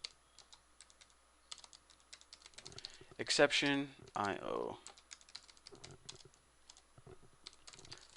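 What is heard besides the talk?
typing on a computer keyboard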